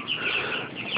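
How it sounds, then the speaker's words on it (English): A flock of about 250 young chickens on a farm in Kenya clucks and peeps in a continuous, busy chorus, close by and moderately loud. "Here we have the 250 chickens, which are all happy, hopefully."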